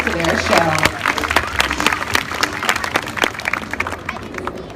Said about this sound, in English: how about another big round of applause to welcome back our 2 stars to their show.